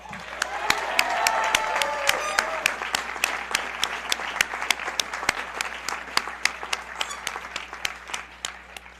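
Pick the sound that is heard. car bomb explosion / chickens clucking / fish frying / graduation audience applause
graduation audience applause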